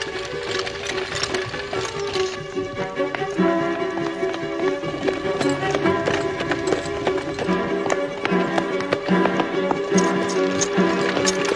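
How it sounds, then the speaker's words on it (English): Horse hooves clip-clop at a running pace in a period drama scene, a steady rapid beat carried under a busy, loud mix of other sound with no clear speech. "Stop that horse."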